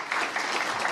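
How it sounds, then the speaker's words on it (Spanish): Audience applause for panelists at a world law congress panel on 2024 electoral rules, a dense, steady patter of clapping from a room full of people. "yo quisiera que le dieran un aplauso a estos panelistas"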